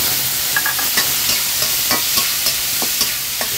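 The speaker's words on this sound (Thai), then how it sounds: "ผัดให้เนื้อดุ้งนะครับ" Shrimp stir-fried with garlic in a wok over high heat with a splash of water, a loud, bright continuous sizzle punctuated by regular spatula scrapes and taps against the wok.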